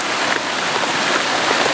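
Steady rain falling outdoors, a loud, dense, uniform hiss of drops with no pauses and no voices.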